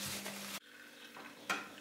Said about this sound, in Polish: Zaczynamy od rozpuszczenia masła.